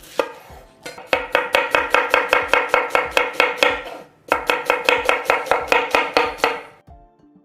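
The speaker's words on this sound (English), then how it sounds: "now we're going to cut an onion" A knife slices an onion on a cutting board in two quick runs of sharp, evenly spaced chops, about a dozen strokes each, close and crisp, separated by a short pause.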